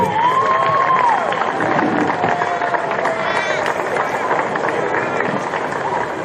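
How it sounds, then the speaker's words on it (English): Crowd at an African Australian Football Association grand final applauds and cheers, a steady dense wash of clapping and voices with whistles sounding over it, held at an even level throughout. "big round of applause to all our supporters and our sponsors"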